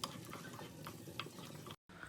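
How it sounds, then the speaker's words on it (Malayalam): Cashews and raisins frying in ghee in a pan, heard as a steady close sizzle broken by light stirring clicks and scrapes, ending with a brief cut of silence. "അതിലേക്ക് കുറച്ച് കാഷ്യൂസും കിസ്മിസും ഇട്ടിട്ട് ഒന്ന് വറുത്തെടുക്കുന്നുണ്ട്"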